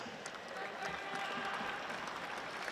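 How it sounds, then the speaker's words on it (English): A crowd at Suncorp Stadium applauds during a women's football grand final ceremony, a faint, distant wash of clapping and cheering with a voice over the public address. "Give yourselves a round of applause."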